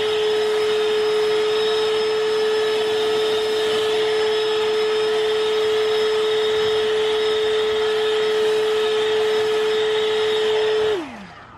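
An electric backpack leaf blower runs on maximum as a steady, loud, even whine that holds for about eleven seconds, then winds down and cuts off at the end, with no talking.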